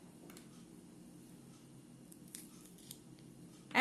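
Scissors snipping French beans, a few faint sharp cuts at close range against quiet background, ending with a louder clatter.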